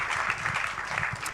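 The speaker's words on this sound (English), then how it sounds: "Let's give one more time very warm applause to our excellent guest speakers, Sebastian Gechert, Piers O'Reilly, and Tuom" Audience applause for guest speakers at an event, a dense, steady clapping of many hands filling the room, loud and continuous.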